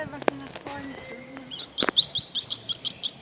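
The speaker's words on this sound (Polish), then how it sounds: "Jakie piękne ptaszki." Bright bird chirps ring out, scattered at first and then a quick run of repeated tweets, fairly close over a quiet background.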